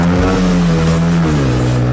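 A Mag Power R-Stunt 50cc motorcycle with a four-speed gearbox revs loudly and close by, holding a steady buzzing pitch before dropping slightly as the revs ease.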